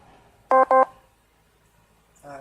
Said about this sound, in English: here's my phone dying again